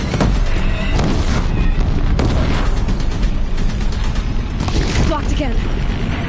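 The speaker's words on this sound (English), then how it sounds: "If the Deathbringers keep firing, this bridge will go." Deathbringer machines fire artillery in the video game Horizon Zero Dawn, producing a dense barrage of loud booms and blasts that runs continuously, with a voice speaking briefly over the bombardment.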